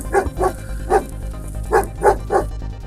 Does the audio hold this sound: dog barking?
yes